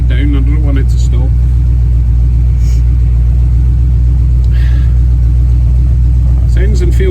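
A Chevy V8 fitted with an HEI distributor idles steadily around 1000 RPM, a constant low rumble running through the whole stretch while a voice talks over it.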